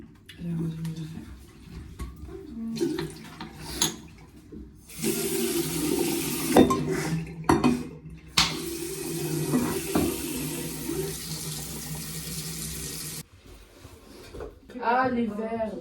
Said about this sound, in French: Je vais rincer les verres.